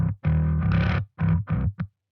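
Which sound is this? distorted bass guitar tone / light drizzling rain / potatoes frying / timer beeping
distorted bass guitar tone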